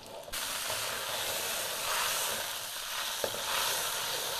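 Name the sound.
eggplant frying and stirred in wok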